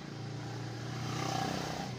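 A faulty, overheating motorcycle engine with a dirty filter idles steadily at close range, a continuous low rumble with a faint mechanical rattle and no pauses.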